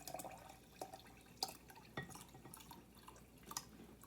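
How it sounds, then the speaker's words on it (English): Lemonade from a jar trickles and drips into a water pitcher, a few separate splashes and drops landing at close range, quiet and uneven with gaps between. "we're going to pour that into our water pitcher"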